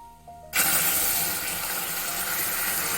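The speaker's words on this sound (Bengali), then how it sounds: "জল দিচ্ছি," Water poured into a pan while making balish mishti, a sudden onset of steady loud splashing and rushing that continues unbroken, close by with no talk.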